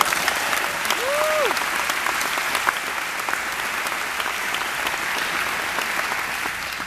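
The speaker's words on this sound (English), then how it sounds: "Can I have an applause for that?" Audience applause at a Hilton Head Preparatory School commencement ceremony, a steady wash of many hands clapping from a large crowd, slightly distant, with a brief whistle early on.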